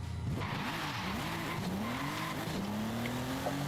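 Tires squeal and skid from a drifting car in Forza Horizon 5, with a continuous engine roar underneath and long rising and falling screeches, loud and close throughout.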